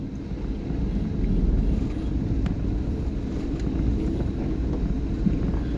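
A car driving on the pothole-damaged Dharampur–Nashik road in early rainy-season conditions, heard from inside as a steady, loud low rumble of engine and road noise with wind buffeting and no voices.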